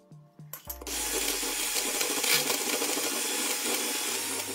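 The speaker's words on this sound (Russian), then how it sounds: "Первым делом взбиваем яйца с добавлением сахара и ванильного сахара." Eggs being whisked with sugar and vanilla sugar for a kefir pie batter, a few knocks and taps first, then a continuous bright whirring of an electric mixer running steadily.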